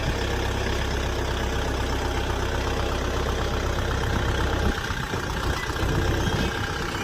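A Dongfeng 404 four-wheel-drive tractor engine idles steadily with a deep, continuous rumble, unchanging throughout, with no voices.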